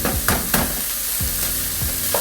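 Chili, canned tuna and egg stir-fry together in a pan for a chili-tuna ham vegetable fried rice, giving a loud, steady sizzle with repeated scraping strokes of the spatula and no talking.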